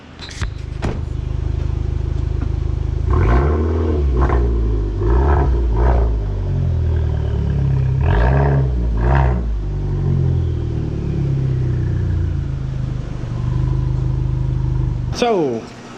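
A Dodge Dart set up for a rally build idles with a steady low rumble close by, with a few revs and clattering bumps partway through, while people talk over it.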